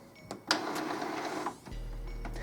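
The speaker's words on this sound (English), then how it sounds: "this cycle will take a couple minutes, and it's just your printer pushing fresh ink into the printhead" An Epson XP-452 printer runs a printhead cleaning cycle, giving a steady mechanical whirring with clicks and a shift to a lower motor hum partway through, close and alone.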